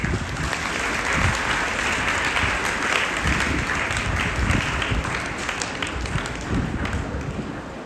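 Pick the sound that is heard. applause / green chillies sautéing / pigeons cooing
applause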